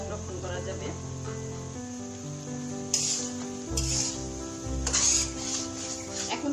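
Sweet-sour hog plum (amra) pickle cooks in oil and vinegar in a pan, a steady sizzle with intermittent stirring scrapes and clatters over a constant hum.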